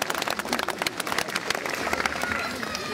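A festival audience applauds at the Rolandsfest in Nordhausen, many hands clapping in a dense, uneven patter that carries on steadily, with crowd murmur mixed underneath.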